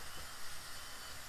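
Food sizzling in a frying pan on a home stove during a Saturday dinner cook, a steady, even hiss of frying that holds for a moment with no voices over it.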